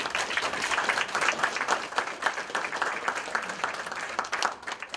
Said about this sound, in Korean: 큰 박수 한번 부탁드리겠습니다